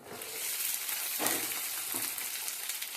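Mustard seeds, cumin, onion and green chillies frying in hot oil in a pan, a close, steady crackling sizzle with small pops, no talk over it.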